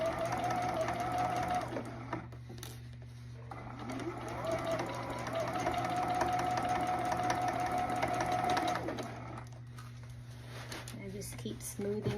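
A sewing machine stitches the side seams of a denim jacket in two long steady runs with a short pause between them, a continuous close whirr with a faint rattle, followed by a few brief stops and starts.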